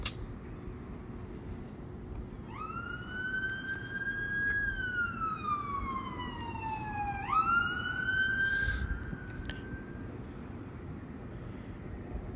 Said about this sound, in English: I'm just outside, so that's the sirens you're hearing.